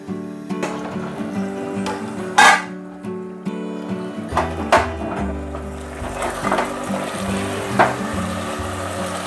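Mutton korma frying in a pan on a medium flame, with a steady low sizzle of oil broken by scraping and clattering knocks of a spoon stirring against the pan and a few louder clanks.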